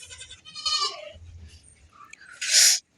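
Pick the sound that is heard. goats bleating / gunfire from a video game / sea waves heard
goats bleating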